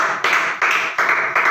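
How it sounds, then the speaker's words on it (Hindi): A class of students applauding in a room, about four loud bursts of clapping in quick rhythmic pulses, close and bright, with no speech. "गुड, जोरदार ताली"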